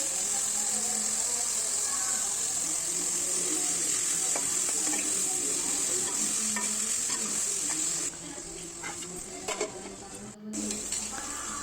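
Spiny gourd frying with ginger-garlic paste and turmeric, stirred in a pan: a continuous bright sizzle with repeated scraping and stirring strokes, dipping briefly near the end, then the sizzle carries on, with no speech.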